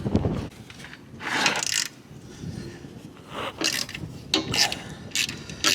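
A ratchet wrench backs an old non-metric bolt out of 1970s farm equipment, giving bursts of quick metallic clicking separated by short pauses and close, moderate in level, with no talking.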